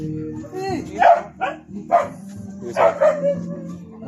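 A dog barking and yelping in short bursts while being given a vaccination injection, close by and loud, with people talking in the background between barks.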